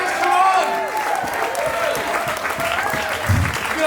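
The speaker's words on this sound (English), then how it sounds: "give me a round of applause for all the action seen tonight" Audience applause at an outdoor cabaret show at Nimbin MardiGrass festival, steady clapping with some cheers lasting the whole few seconds, fairly loud and close, with a voice coming through over it.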